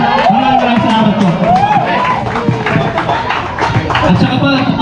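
Crowd at a barangay dart tournament clapping and cheering loudly, steady babble of shouts and whoops with applause throughout, close and dense with voices calling out.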